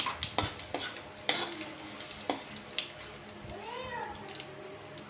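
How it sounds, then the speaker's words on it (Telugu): Metal spoon scraping and clinking in a pan of tempering with turmeric at irregular intervals, with a soft sizzle underneath and a brief high cat-like cry near the end. "వేసుకొని ఒకసారి పోపును కలపాలండి"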